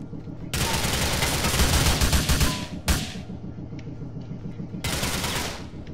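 Rapid automatic gunfire while shooting enemies in Grand Theft Auto IV, with a long loud sustained burst, a short sharp second volley and another burst at the end, close and dominant with faint game ambience between.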